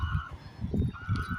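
A large flock of birds honks and calls loudly nearby, overlapping cries in quick uneven bursts.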